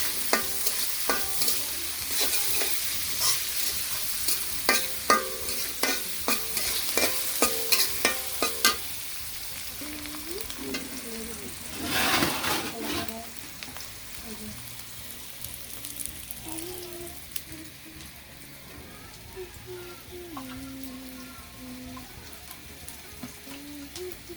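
Chopped onion frying in a pan brings brisk stirring clatter and sizzle for the first several seconds. It then eases into quieter sizzling with a brief louder rush and some watery sounds.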